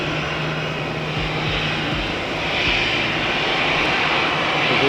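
An IndiGo passenger jet at Patna Airport throttles up for takeoff on the runway, a loud, steady broadband engine roar that swells slightly toward the end, with no voices.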